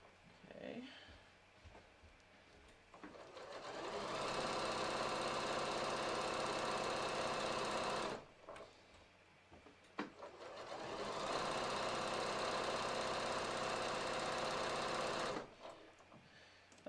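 A sewing machine runs two long bursts of stitching along a seam in SeraFlex stretch thread, a steady fast mechanical whir and rattle, close and even, with a short pause and clicks between the runs.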